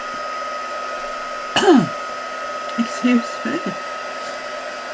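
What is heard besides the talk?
heat gun drying stamped archival ink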